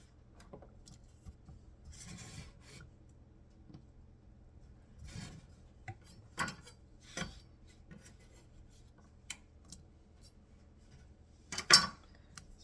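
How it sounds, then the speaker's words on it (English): Cheese is stirred into a pot of broccoli soup with a utensil, making faint scattered scrapes and soft clinks against the pot, the loudest knock near the end. "I'm gonna stir this a little bit until it's pretty much all melted."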